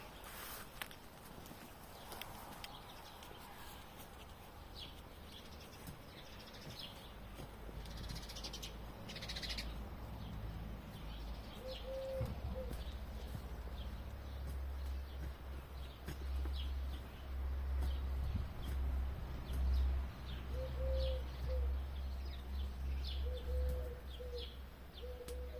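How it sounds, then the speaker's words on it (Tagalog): Birds call and chirp in a garden with flowers and sunflowers, scattered short tweets over a steady low outdoor rumble, fairly faint and continuing throughout. "Pakinggan natin yung mga ibon na bang kumakanta, no?"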